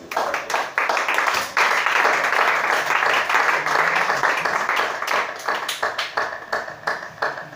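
Church congregation applauding during a French-language worship service, a dense steady clapping that fills the space for most of the stretch and then thins into scattered individual claps near the end.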